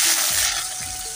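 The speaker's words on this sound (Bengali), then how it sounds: "আলু ভাজা দিয়ে একটু সবাই মিলে টিফিন করব" Potatoes frying in a home kitchen on a rainy day, a steady broad sizzle of hot oil with soft stirring scrapes, close and continuous with no talk.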